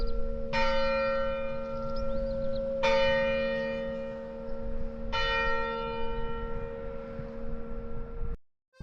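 Church bells ring out in southern France or northern Spain, three clear tolling strikes spaced a couple of seconds apart, each leaving a long humming resonance, fairly near and alone.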